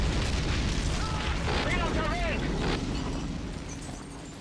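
Mortar explosion in the video game Men of War: Assault Squad, a loud booming blast that rumbles and slowly fades, with a voice speaking over it.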